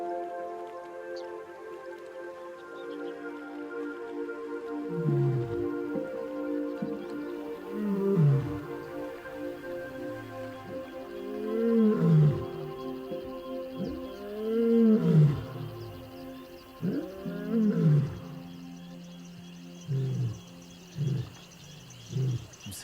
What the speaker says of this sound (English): I'm so glad you got to hear a lion roar now.